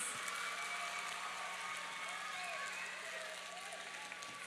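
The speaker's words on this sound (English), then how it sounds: "Let's give another big round of applause to Miss Nyla Salinas." A school talent show audience keeps up a steady, moderately faint applause, a continuous crowd wash with some cheering and voices mixed in beneath it.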